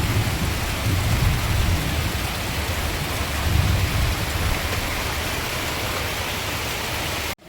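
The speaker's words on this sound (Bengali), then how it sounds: "বিরাট জোরে বৃষ্টি শুরু হয়েছে দেখুন।" Heavy rain pours down outside a home during a thunderstorm, a loud, dense, unbroken roar of rainfall with low rumbling swells, continuous until it cuts off abruptly at the end.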